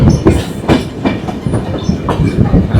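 Kanchankanya Express train rolling on rails near a forested hill crossing, with loud rhythmic clickety-clack wheel beats repeating about every half second, close and steady.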